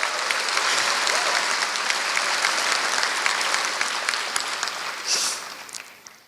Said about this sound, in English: can we give another round of applause to the families present here today?